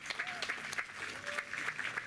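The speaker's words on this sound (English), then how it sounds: "Let's give Malachi a massive round of applause." An audience claps through a round of applause at a live event, steady dense clapping heard fairly close with a faint tone and a few louder claps standing out.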